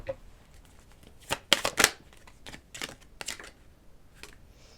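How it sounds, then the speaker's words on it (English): Oracle cards being shuffled in a quiet room during a reading: a few close, crisp riffling bursts clustered near the middle, then lighter scattered flicks of card against card, with no talk over them. "Let's get some oracle cards out here."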